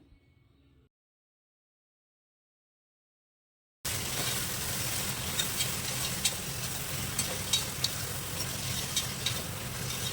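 Carrot, beans, potato, tondli and fenugreek leaves for pulao sizzle steadily in a hot pan after a brief quiet gap, with the clink and scrape of stirring ticking over the continuous frying hiss.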